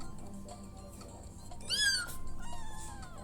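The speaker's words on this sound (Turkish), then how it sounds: "Bu arada arkadaşlar kedimin sesini göstereyim bakın." A cat meows once, a short rising cry up close, followed by a fainter second mew over quiet background noise.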